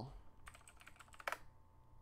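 Quick, light clicks from typing on a computer keyboard, about a dozen keystrokes in a short rapid run with one sharper tap near the end, heard alone at low volume.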